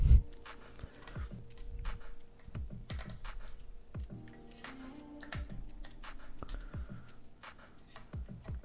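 Typing on a mechanical keyboard built with unicorn switches, a steady run of close, crisp keystrokes with brief pauses, over a low background hum.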